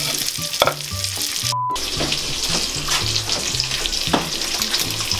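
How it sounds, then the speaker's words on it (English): Bacon, chopped onions and garlic frying together in a pan, a steady close sizzle and crackle with scraping and stirring clatter, plus a low repeating musical background and no talk. "while the bacon is rendering, you put the chopped onions in there, just a bit"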